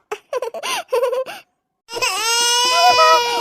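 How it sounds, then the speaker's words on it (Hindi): A newborn baby cries in a loud, sustained wail after a short burst of laughter and a moment of silence. "ये मेरे पोते के ही रोने की आवाज है।"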